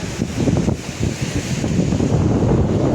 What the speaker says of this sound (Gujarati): દરિયામાં મોજા બહુ મસ્ત આવી રહ્યા છે